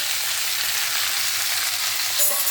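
Carrots, tomato and coriander sizzle in hot oil with a tempering of mustard seeds, coriander seeds and dried red chillies, a steady close frying hiss with a brief sharper crackle near the end.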